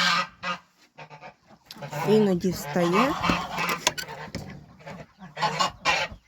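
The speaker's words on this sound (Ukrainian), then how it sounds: "І тут гуска пішла на гніздо." Geese on a farm give loud, nasal honks in bursts close by, some drawn-out and wavering, mixed with clucking fowl and someone talking briefly between calls.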